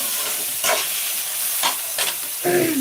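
Chopped sour country tomatoes frying in a pan: a bright, close sizzle broken by several sharp stirring scrapes, with no talking.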